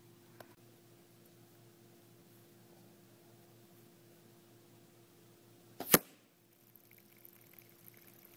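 At 20 yards, an arrow tipped with a Grimreaper broadhead strikes a red diamond sweet tea jug with a single sharp, loud smack after a quiet stretch, followed by faint trickling.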